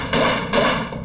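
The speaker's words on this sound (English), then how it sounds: "And then he heard the gunshots." Two loud, close gunshots ring out in quick succession, each a sharp blast with a short ringing tail.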